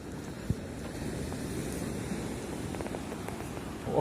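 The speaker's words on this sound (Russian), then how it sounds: "Ох, море здесь как бушует. Слышите, как шумит?" Steady roar of sea surf with wind buffeting the microphone, a continuous rushing wash of waves and a brief thump near the start.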